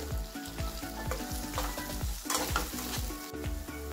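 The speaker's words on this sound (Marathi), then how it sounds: "आता हा टोमॅटो आपल्याला एकदम मऊ होईपर्यंत परतून घ्यायचा आहे तेलामध्ये।" Chopped tomato sautéing in hot oil until soft for a village-style brinjal curry, a steady close sizzle with repeated rhythmic stirring strokes of a spoon through the pan.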